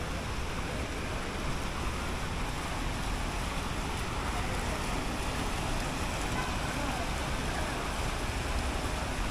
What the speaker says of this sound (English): That's like the waterfall.